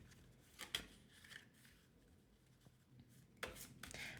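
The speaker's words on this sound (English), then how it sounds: "I'll shuffle for one more card." Tarot cards are shuffled very quietly, with a few soft riffling and rubbing bursts at the start and near the end over faint room noise.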